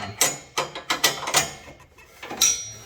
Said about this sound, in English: just gotta loose these bolts up because there's rivets right here